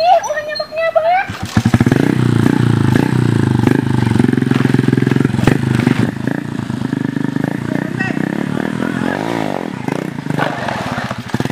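A motorcycle engine runs steadily and close by, with some clatter and a brief rev, while people talk over it.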